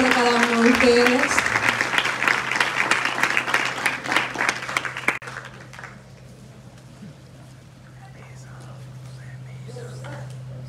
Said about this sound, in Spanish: Felicidades, un fuerte aplauso.